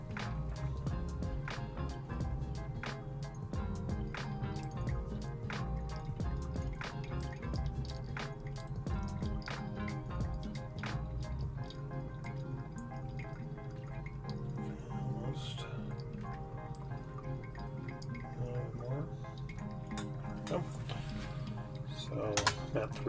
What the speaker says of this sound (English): I do a single pour to the rest of the the brew amount, and I do a pretty aggressive pour